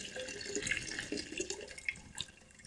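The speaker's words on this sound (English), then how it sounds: "So all I'm doing is I'm pouring our ginger syrup in" Ginger syrup for homemade alcoholic ginger beer is poured through a strainer. The liquid makes a faint, close trickle and splash with a few small drips.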